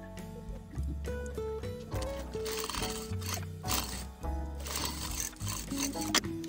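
A sewing machine runs stitches along a fabric strip for a corset dress, making a close, steady whirring chatter of rapid needle strokes with short pauses, partly covered by background music.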